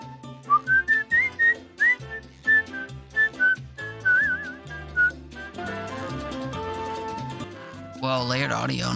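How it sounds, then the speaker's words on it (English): A person whistles a wandering melody in a game-capture setting, with a second layer of the same whistling playing over it, tonal and fairly close, alongside other game sounds and brief noisy bursts near the end. "We could have heard me whistling over me whistling"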